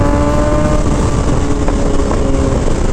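A Kawasaki ZX-6R motorcycle runs with a steady, loud exhaust drone, with a few brief pops and crackles partway through. No one talks.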